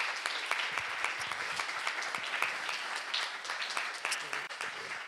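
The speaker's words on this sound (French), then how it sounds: "Donc, un tonnerre d'applaudissements." An audience at an evening art-and-science conference on augmented gastronomy, held in a theatre, breaks into sustained applause: many close, crisp hand claps blend into a thick continuous patter that stays even throughout.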